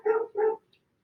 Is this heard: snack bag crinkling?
no